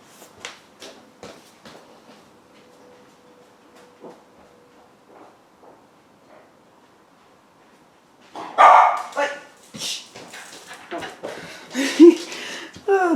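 Dog barking indoors in a home, a burst of several loud, close yaps and barks late in the stretch, following a quieter span with scattered light knocks and a faint hum.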